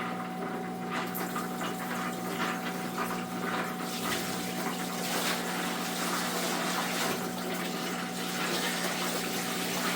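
Water pours steadily into a container of quartz and crystal rocks for soaking with Iron Out, a continuous close rushing and splashing gush with a faint steady hum underneath and no speech.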